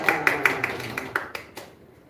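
Around eight sharp hand claps ring out at a church gathering in an uneven rhythm, close by, fading toward the end with a little reverberation.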